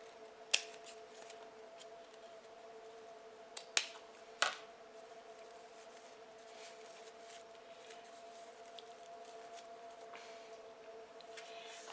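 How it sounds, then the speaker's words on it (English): Scissors snip through ribbon while a bow is being made, giving a few sharp, isolated cuts near the start and middle over a quiet background with a steady faint hum. "I'm going to cut it off."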